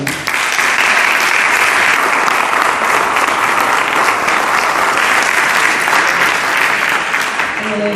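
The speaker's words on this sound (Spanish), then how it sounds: "un fuerte aplauso os voy a pedir para Itziar Garaiza" At a retirement tribute, an audience gives Itziar Garaiza sustained, loud applause, a dense, steady roar of many hands clapping throughout.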